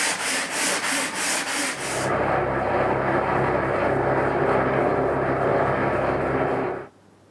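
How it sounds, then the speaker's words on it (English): Sanding weathered wood for a garden bridge, beginning with a few short rhythmic strokes and then a continuous close abrasive rasp that stops abruptly. "So I'll sand this, give it 1 sanding, and that'll be good enough."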